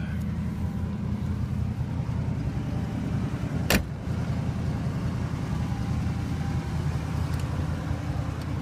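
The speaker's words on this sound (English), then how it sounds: "Getting fairly loud. I'm gonna have to get that exhaust rectified." A 1978–1983 Buick's engine idles with a deep, rumbling drone from a loud exhaust in need of repair, steady and close, broken once by a brief sharp rattle partway through.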